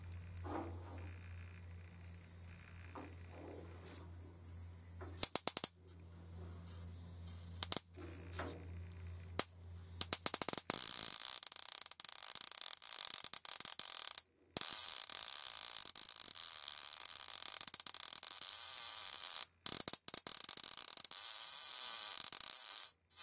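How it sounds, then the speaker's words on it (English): Crackling electric arcing from a boost converter through gunpowder on a metal table, a loud sputtering buzz that starts with scattered snaps and clicks, then settles into sustained harsh crackle with brief dropouts. "we'll see if we can arc through the powder with the other terminal and ignite it."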